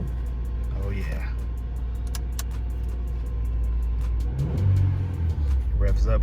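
A Honda Civic engine idles as a steady low rumble, then revs up near the end after a fresh battery hookup, with some voices in the background.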